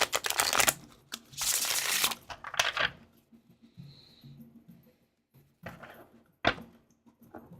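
Tarot cards riffle and slap together in several quick rustling bursts, followed by quieter handling, soft taps and one sharp knock.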